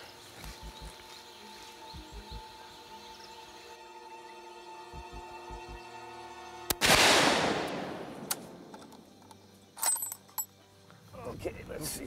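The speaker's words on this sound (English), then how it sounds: "So I'm gonna take the second shot, close range." A rifle shot fired at close range during a hunt, one sharp loud blast with a ringing decay, after a stretch of quiet outdoor ambience with faint clicks and a few later bumps.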